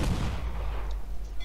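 Cannon fire in a naval ship battle in the video game Assassin's Creed 4: Black Flag: a single booming blast with a rumbling low tail, alone without voices.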